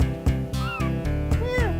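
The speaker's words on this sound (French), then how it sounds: "Et il miaule. On dirait qu'il miaule" Meowing from a rat creature in the Sega Mega Drive game Comix Zone, gliding cat-like cries heard over a loud, pulsing game music backdrop.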